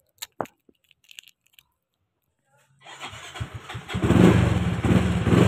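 A Yamaha Mio-i 125 scooter with a faulty push-start switch cranks and fires up after a few quiet clicks, its engine catching and settling into a loud close idle.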